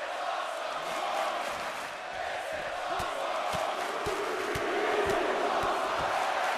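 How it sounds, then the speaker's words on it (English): A roaring arena crowd in the WWE 2K24 video game cheers continuously for several seconds, broad and steady. Sharp hits and thuds punctuate the crowd noise throughout. "This crowd in Orlando coming unglued as Jey Uso is letting Carmelo have it."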